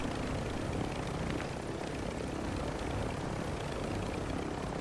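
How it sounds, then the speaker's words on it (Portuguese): A video game helicopter's engine and rotor drone steadily in the distance in Call of Duty: Warzone, a constant whirring noise with no voices. "E olha, helicóptero velho"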